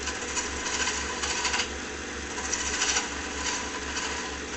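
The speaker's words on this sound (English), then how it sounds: "This is a method used to make rough threadings on the lathe" A lathe at low speed cuts a rough comb thread into a pipe tenon, giving a close, steady scraping rasp with periodic gritty swells over a low motor hum, no voices.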